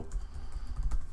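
A short burst of typing on a computer keyboard while entering a terminal command, quick close key clicks in an uneven rhythm, with no voices.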